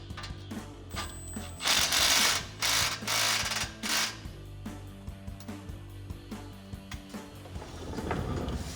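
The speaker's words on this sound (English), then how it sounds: "use a 13mm and tighten the two pipes together" A 13mm wrench tightening the clamp joining two exhaust pipes under a Chevrolet Silverado 1500, with a Borla S-Type dual exhaust being fitted: close metallic clicks, scrapes and ratcheting in uneven bursts, with no talk.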